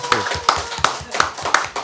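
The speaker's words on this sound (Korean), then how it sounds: "박수로 박수 환영하겠습니다." Several hands clap in a slow, steady rhythm, about five sharp claps in two seconds, close by in a room, welcoming a late-arriving guest to a Korean political talk show panel.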